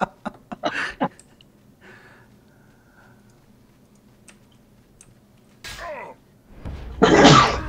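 A sneeze, close and abrupt, a short loud breathy burst near the end, preceded by a few scattered clicks and quiet game sounds in an otherwise calm room.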